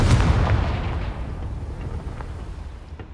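A Confringo spell explosion in the Hogwarts Legacy video game: a loud, near blast at the start, with a heavy rumbling tail that slowly fades over a few seconds, alone without talk.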